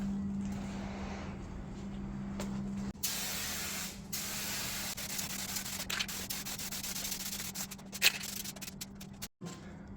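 A Rust-Oleum spray paint can hisses out a coat of paint on a Chevy squarebody truck in long continuous bursts, close and steady, with brief pauses and a low hum underneath.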